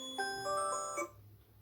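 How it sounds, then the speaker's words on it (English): A short electronic alarm chime from a phone, a quick run of bright tones lasting about a second, heard alone at low volume. "My phone has an alarm."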